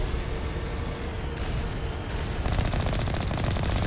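Rapid automatic gunfire from the Mass Effect video game, a steady dense burst of shots running throughout and growing slightly louder toward the end, with no voices.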